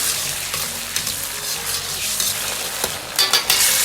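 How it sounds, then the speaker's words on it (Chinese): A sauce of oyster sauce, soy sauce, dark soy sauce and cooking wine with fried garlic sizzles loudly in a hot wok. The steady frying hiss continues throughout, broken by occasional scraping stirs that grow busier toward the end. "然后把料汁炒出香味。"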